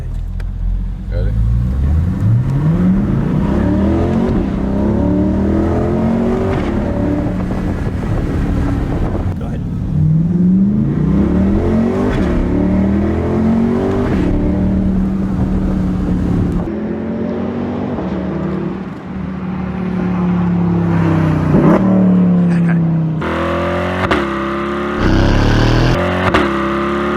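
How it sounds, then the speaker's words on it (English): Two cars come flying down a road and out of a tunnel, their engines roaring continuously, with the pitch repeatedly rising and falling as they rev and sweep past, loud and close for the whole stretch. "these two cars come flying down this road and come out of a tunnel"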